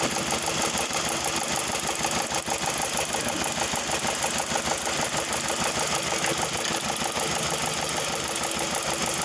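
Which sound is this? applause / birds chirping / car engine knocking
car engine knocking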